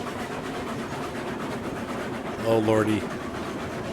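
A steam locomotive in the Railroads Online video game runs with a steady, even mechanical rumble, and a man's brief exclamation cuts in over it.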